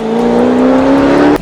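A Perodua Kembara's small engine roars steadily at high revs, a loud, close, sustained drone with a strong humming tone that holds for over a second before cutting off abruptly.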